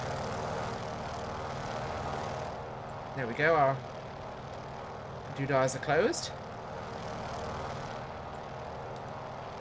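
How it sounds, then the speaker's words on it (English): Sputtering radial engine of a Noorduyn Norseman bush plane in Microsoft Flight Simulator, a steady droning rumble throughout with two short bursts of talk over it. "It's a very sputtery sounding engine, I will say, which does fit the type of engine we have in this aircraft."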